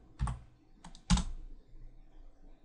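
A few keystrokes on a computer keyboard while setting up a Django server locally: two short bursts of clicks with a pause between, fairly quiet and alone, followed by faint room tone.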